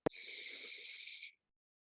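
A single deep inhale during vinyasa yoga practice, a steady, close, airy breath lasting about a second after a brief click, with no talking over it.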